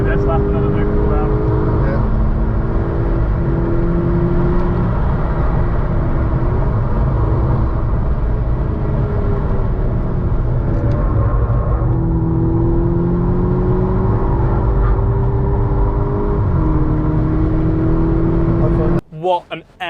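A JDM import car runs a lap at Oulton Park circuit, its engine a loud, steady drone heard from inside the cabin with rising and falling pitch as it accelerates and eases off, ending in a brief burst of noise.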